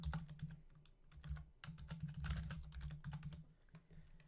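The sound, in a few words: typing a name on a computer keyboard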